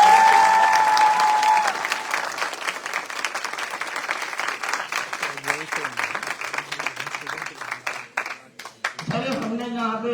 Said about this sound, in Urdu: کالج کے اسٹوڈنٹ تالی بجا کے بتائیں کیسے کرتے ہیں